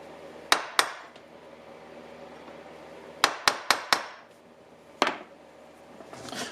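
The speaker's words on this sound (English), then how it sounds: "just tap a little divot in here on each one of my dots" Hammer taps center-punching small divots into a copper piece ahead of drilling: seven sharp, ringing metallic strikes in two clusters over a quiet room, with a faint rustle near the end.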